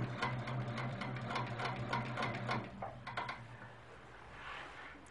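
A sewing machine stitches along a quilt block seam, its needle mechanism chattering in a steady, fairly quiet run that eases off near the end.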